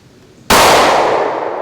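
A Springfield Hellcat OSP pistol fires a single loud, close shot, and the ringing clang of a steel target follows and decays slowly.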